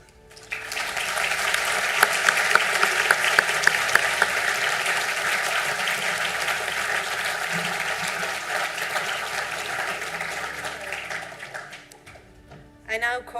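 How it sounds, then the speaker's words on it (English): Graduation conferring ceremony in Sligo where the audience applauds the Faculty of Engineering graduates, a long, loud, sustained roar of many clapping hands that fades out near the end, followed by a brief voice. "to stand for a round of applause."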